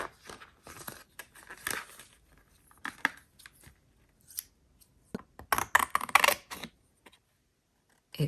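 Kokuyo plastic scissors are pried out of their packaging, with close, sharp plastic clicks, snaps and crinkles in irregular bursts separated by short quiet gaps.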